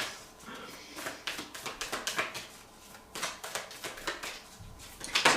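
Tarot and oracle cards shuffled by hand in soft, rapid bursts of riffling and flicking, several quick runs separated by brief pauses, close and fairly quiet with no talking.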